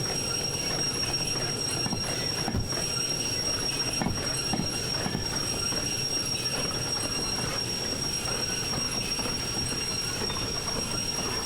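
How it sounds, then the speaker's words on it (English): Train wheels slip and grind along the rails in the Derail Valley railway simulator game, a continuous rolling rail noise with faint squeals and a few knocks, steady and moderately loud with no talk. "We're gonna have some wheel slip issues here."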